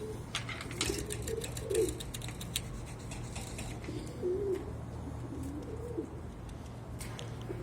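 Pigeons cooing softly in a loft, several low rolling coos in short bursts against a steady background hum.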